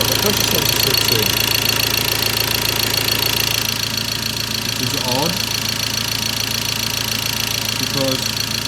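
A Ford Transit van engine with a MAP sensor fault runs at a steady mechanical idle with a faint repetitive ticking, while someone talks over it.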